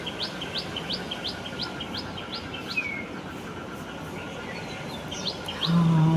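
Sparrows chirp outdoors on a cool morning in a quick, even series of bright calls, then fall quieter with scattered chirps over a steady background hum.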